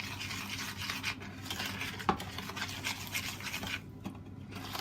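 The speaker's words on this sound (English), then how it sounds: "we need to mix that together well. So we can mix it up this way" Sugar being stirred into lemon drizzle cake batter in a bowl, a steady soft scraping and rubbing with one sharper knock of the utensil partway through, close and quiet with no talking.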